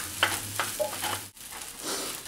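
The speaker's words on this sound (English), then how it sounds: "And stir with the egg and fry for 5 minutes." Egg and rice sizzle and fry in a pan while being stirred, a steady crackling hiss with soft scraping strokes and a brief pause partway through.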